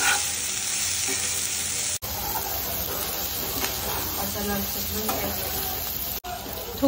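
Red chillies, onion and spices dry-roast in a pan for a Khandeshi chicken masala. A dense, steady hiss and crackle fills the pan, broken by occasional stirring.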